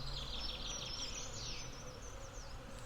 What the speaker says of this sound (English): I don't know if you can hear the absolute motor that's going right now.